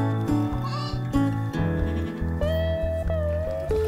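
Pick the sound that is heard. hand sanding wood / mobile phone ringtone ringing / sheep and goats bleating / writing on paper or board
sheep and goats bleating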